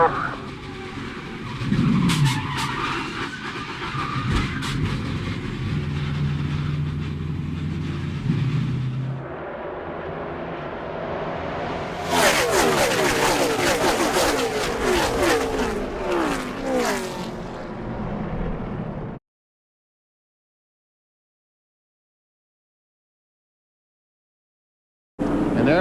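NASCAR race cars roaring around the track and slamming into the wall, engine drone and a burst of crash noise, with a commentator talking over the action before the sound cuts to silence.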